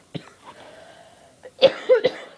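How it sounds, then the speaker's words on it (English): A single person gives a few sharp coughs close to the microphone: one short cough, a brief pause, then a louder cluster of two or three coughs, with no talking. "sorry, I had a cough."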